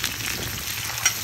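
Chopped onions frying in oil in a kazan pot, giving a steady, loud hiss and crackle without talk.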